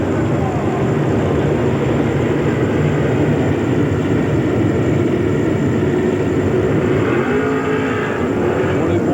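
Dirt late model race cars at Eldora Speedway drone as a loud, steady engine roar throughout, with a commentator talking over it.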